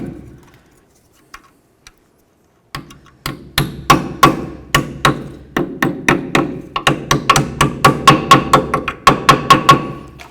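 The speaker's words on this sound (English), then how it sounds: "you can use a small hammer and just help it along" A small hammer taps a rear brake caliper tin on a 2004-08 Ford F-150, starting with a few isolated knocks, then settling into a steady, quick rhythm of bright, ringing strikes nearby.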